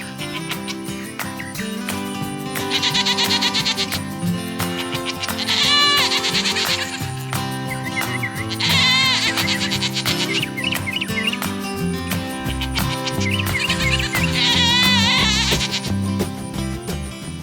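Goats bleat repeatedly and loudly, several wavering cries overlapping in a noisy chorus over a constant background.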